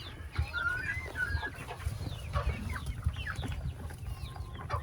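Backyard chickens and baby chicks clucking and chirping in a coop, many overlapping calls at close range over low rustling and shuffling, with no talk.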